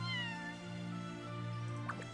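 A cat meows with a drawn-out, falling call near the start, heard over sustained background music, with a faint second mew near the end.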